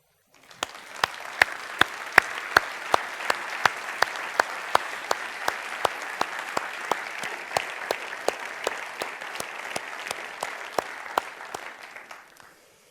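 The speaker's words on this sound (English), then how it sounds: "receive a warm round of applause" An audience at an awards presentation applauds warmly for several seconds, a dense wash of clapping with sharp regular claps standing out, then tapering off.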